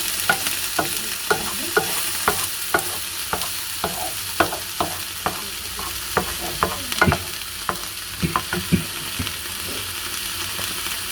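Onions and mushrooms frying in a pan for a rice dish, a steady sizzle punctuated by a rapid, regular series of spatula scrapes and clicks as the food is stirred.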